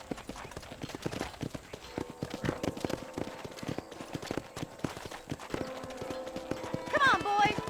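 Horse hooves clip-clop in a steady trotting rhythm in the video game Red Dead Redemption, close and clear, with someone talking over them and a brief whinny near the end.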